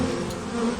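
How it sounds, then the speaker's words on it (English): A cartoon bee buzzes steadily in a morning garden among opening flowers, a close, continuous drone with no gaps and no voices. "a gentle buzz fills the air"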